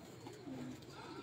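A Neeluma bloodline pigeon from Faisalabad coos softly on a rooftop, a short low rolling call, close but faint, with no talk over it.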